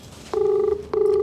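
Ringback tone of an outgoing phone call to a verified number: two long, steady, buzzing tones separated by a short gap, loud and clear with no speech.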